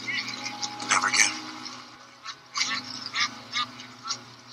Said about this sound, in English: Look at the little ducks in the water.